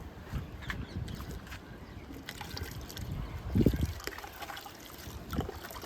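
Water pours and trickles steadily into a 10-litre container, with a brief louder splash midway and some faint handling noises.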